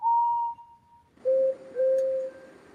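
Two train whistles, Gordon's and Henry's, the same steady tone heard first at a higher pitch and then again lower, each a clear sustained toot with a short break, alone and close.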